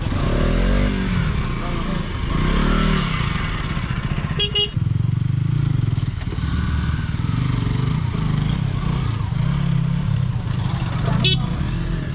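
A motorcycle engine rumbles steadily close by as it climbs uphill, with people talking over it and a few brief clatters.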